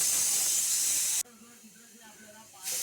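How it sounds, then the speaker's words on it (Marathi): A pressure cooker on a gas stove lets out its first whistle, a loud, steady steaming hiss that cuts off abruptly, followed by quiet kitchen sounds and the hiss starting up again. "कुकरची शिट्टी होताना अगदी मी तुमच्यासमोर दाखवणार आहे पहिली शिट्टी झाली"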